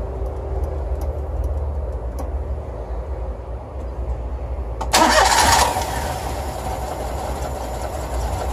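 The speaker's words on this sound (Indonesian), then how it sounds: "kemudian kita hidupkan mesinnya supaya air radiator ini bersirkulasi ya teman-teman" Car engine cranking and catching, a loud burst of starter noise followed by a low, steady idle with the radiator cap back on, close by and with no talk.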